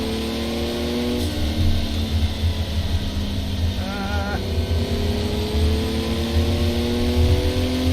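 A Ford Capri's engine drones steadily in a racing video game, with rising and falling revs through gear changes over a constant road roar.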